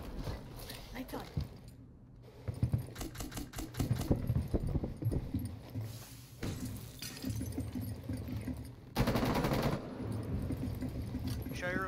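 Gunfire rings out in Rainbow Six Siege: repeated sharp shots and rapid bursts scattered across the stretch, mixed with other in-game clatter, with one especially loud burst near the end.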